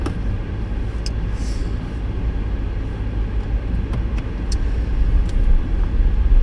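Renault Zoe electric car moving through Monday-morning traffic, heard from inside as a steady low road rumble with occasional faint clicks and ticks, no voices.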